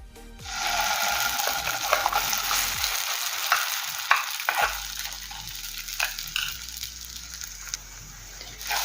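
Thick ground green pea paste sizzles with asafoetida in a pan while a spoon scrapes and stirs it, with occasional clinks against the metal, close up and without talking.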